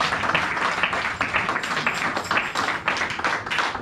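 A congregation applauds during a church service, sustained loud clapping from many hands filling the room.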